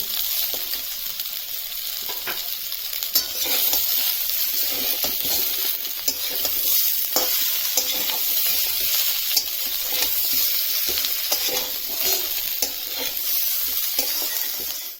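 Fish and vegetables with potatoes fry in a pan, giving a continuous bright sizzle with steady crackling and occasional faint clicks at close range.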